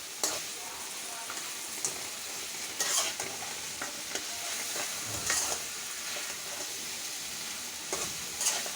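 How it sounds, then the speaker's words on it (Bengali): Ground chilli, turmeric, coriander, cumin and salt fry in hot oil as they are stirred, a soft steady sizzle broken by repeated scraping and tapping of the spoon against the pan. "মরিচ, হলুদ, ধনিয়া, লবণ, জিরা গুঁড়ো সব কিছু দিয়ে আমি কষিয়ে নিচ্ছি"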